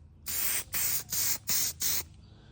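Spray paint hissing onto a rangefinder in five short, evenly spaced bursts, each about a third of a second, close and loud with brief silences between and no talking.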